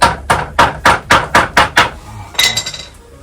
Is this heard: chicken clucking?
no